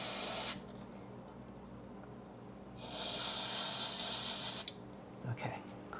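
Three sharp hissing spray bursts as liquid is squirted into the side holes of a Mini4WD Brocken Gigant Black Special model car body, each burst loud and close, separated by brief quiet gaps with faint handling noises.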